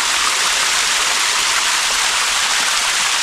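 Waterfall in an ancient wooded gorge, pouring into a rock pool, heard up close as a loud, constant, broadband rushing roar with no pauses.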